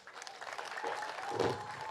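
A short burst of audience applause at an outdoor launch ceremony in Isiolo, with scattered clapping swelling briefly and crowd murmur, heard from a distance at low level.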